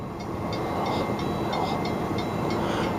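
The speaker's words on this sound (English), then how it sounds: "it's the Eastern Idaho Railroad operating this train" An Eastern Idaho Railroad freight train of covered hopper cars rolls past near Burley, a steady loud roar of wheels on rail with rhythmic clicking of wheels over joints.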